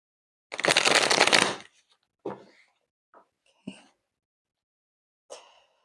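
A deck of oracle or tarot cards is shuffled up close in one dense riffling burst of about a second, followed by a few soft, brief card taps and slides in an otherwise quiet room.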